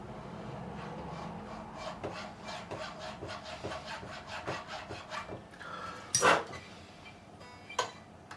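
Small file cutting the nut slots on a left-handed Fender Telecaster, up close, in quick repeated rasping strokes with one louder scrape near the end and no talk.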